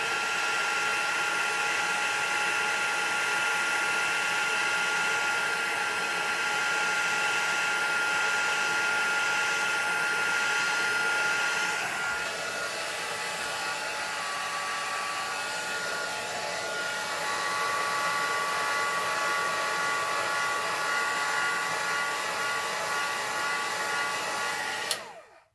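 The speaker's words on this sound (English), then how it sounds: "I'll dry that off because it's VersaFine, it stays wet for a bit longer." Heat tool drying freshly stamped VersaFine ink for a papercraft embellishment, a steady loud blowing roar running continuously for about 25 seconds and cutting off at the end, with no talking.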